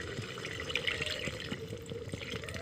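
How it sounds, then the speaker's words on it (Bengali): Hot water pouring into a pot of chicken curry, a soft, steady liquid gurgle and splash at low volume, close by, with no voices. "সেই জন্য আমি এখানে জল দিয়ে দেব"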